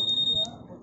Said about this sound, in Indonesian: Ada fitur alarmnya coy.